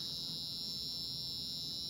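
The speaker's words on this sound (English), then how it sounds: "And the buzzer sound is because that red limit was met" A buzzer on an Arduino sensor kit sounds a steady, unbroken high-pitched alarm tone, triggered when a red sensor limit is reached. It drones continuously at moderate volume over a faint low background hum.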